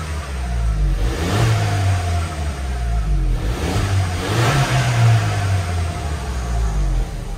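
Red Volkswagen Golf 1.4 TSI with a manual gearbox and original engine, revved repeatedly near its exhaust, giving two or three rising and falling mid-pitched engine swells over a steady idle.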